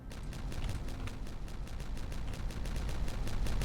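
A rolling rumble of explosions in the colony-building game Timberborn, a dense, continuous crackling roar with rapid repeated bursts that grows slightly louder over nearly four seconds, with no talk.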